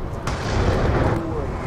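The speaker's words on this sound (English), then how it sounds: "Friendly Hellstorm missile inbound." A Hellstorm missile strike in a video game: a loud, sustained rumbling blast with a heavy low roar lasting the whole moment, close and dominant, with no talk over it.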